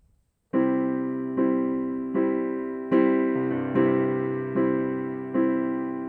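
Full piano chords played with both hands, struck one after another in a steady slow rhythm, each ringing out before the next.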